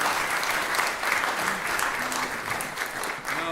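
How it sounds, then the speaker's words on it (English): A concert audience at the Crinniu Colum 2018 gives another round of applause after a spoken poetry performance. The clapping is even and continuous for a few seconds, moderately loud and without talking. "Give him another round of applause."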